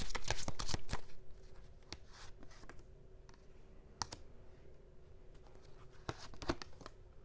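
Tarot cards are shuffled close up in a rapid riffle of crisp clicks and flicks, easing into scattered taps and slides, then picking up again in a short burst near the end.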